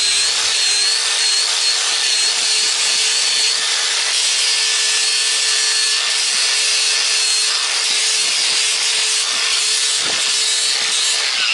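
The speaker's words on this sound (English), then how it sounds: "you shouldn't of course use an angle grinder like me without the guards on it" An angle grinder with its guards removed runs steadily and loud throughout, a continuous high whine with rough grinding texture and no talk.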